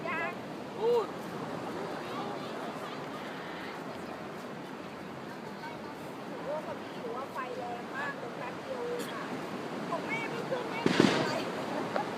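New Year firecrackers go off on Bang Boet beach in Thailand among a festive crowd, scattered pops and one sharp louder burst near the end, mostly under steady chatter and shouting voices.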